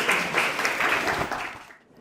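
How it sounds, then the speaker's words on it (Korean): An audience at a social service investment exchange event claps briefly to welcome a speaker, a moderate burst of many hands that fades out toward the end. "박수로 환영해 주시기 바랍니다."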